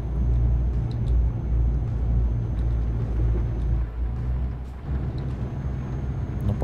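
A heavy truck engine in Euro Truck Simulator 2 drones steadily at high revs as it climbs uphill, a continuous low rumble with no talk over it.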